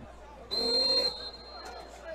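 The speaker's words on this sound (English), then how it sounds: "the official did not turn his microphone off before he blew his whistle" A referee's whistle at a high school football game, blown straight into a live microphone, gives one loud, shrill blast of about half a second over a low crowd murmur.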